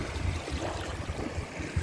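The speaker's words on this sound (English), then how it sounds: "Hopefully you can hear me through the waves." Waves washing onto a rocky Lake Ontario shore, a steady close wash of lapping water and wind rumble with soft splashes, with no voices.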